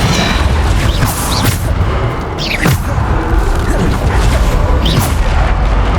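Descendo slam spell in Hogwarts Legacy, loud heavy crashes and whooshing impacts amid a dense, continuous clamor of combat effects.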